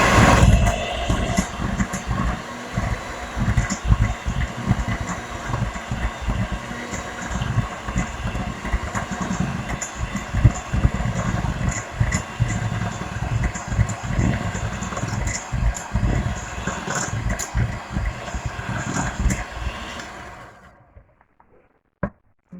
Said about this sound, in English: I'm going to mix the butter and sugar together.